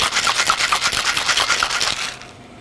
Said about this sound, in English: we want to shake this vigorously.